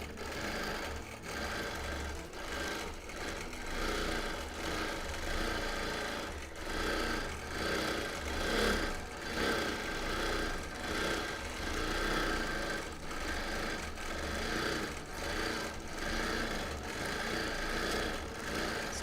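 A sewing machine quilts echo lines across a linen blend sampler quilt, running continuously at a steady fast rhythm with slight speed swells, close and clear, no voices.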